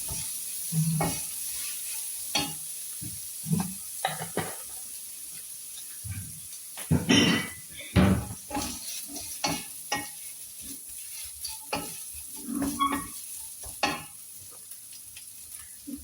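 Vegetables sautéing in a hot pan in a home kitchen, with soft sizzling underneath repeated stirring scrapes and clinks of a utensil against the pan, spread irregularly throughout.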